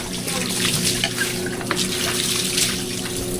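Water runs steadily from a tap, a continuous splashing trickle heard close by, with no talking over it.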